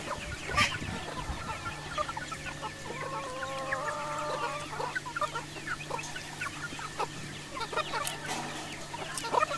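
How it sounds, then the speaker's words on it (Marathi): A white rooster and hens clucking in a small traditional backyard poultry flock in a Konkan village, soft overlapping clucks and calls at close range over a faint steady hum. "व्हाईट कोंबडा."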